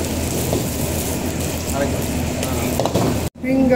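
A beef burger fries in a light pan over slow heat, a continuous sizzle with faint stirring scrapes and a brief cut near the end.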